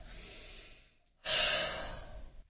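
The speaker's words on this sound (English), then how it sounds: "3 deep breaths." A person takes deep breaths: a long, soft exhale fades out, then after a brief pause a louder, airy inhale-exhale follows, close to the microphone with no talking.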